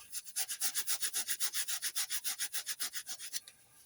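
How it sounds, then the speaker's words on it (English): A scourer is rubbed back and forth over the surface of a car suspension part during a Jaguar XK8 rear anti-roll bar link job, giving about twenty quick, rhythmic scratchy strokes, close and alone before stopping. "So I've just got a bit of a scourer. I'm just going to give that a clean up."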